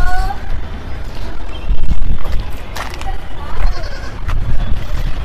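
Kota-Desi cross goats bleating in a pen, several short bleats scattered over steady farmyard noise, with people talking nearby.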